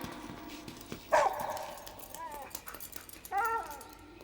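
A dog gives a sharp bark, then shorter whimpering yips and a second bark, close and moderately loud over a low background.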